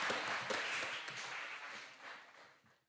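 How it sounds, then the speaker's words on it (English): Faint, distant applause from an audience at a talk on participatory democracy and citizen science, a soft continuous patter that fades away by the end. "Yes, another round of applause."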